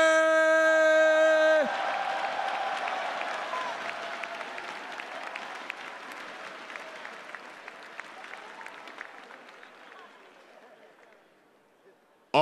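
A large crowd at the Evo 2017 fighting game tournament awards ceremony cheers and applauds after a loud, steady musical or announcer tone cuts off, the clapping and whoops rolling on for several seconds before gradually fading.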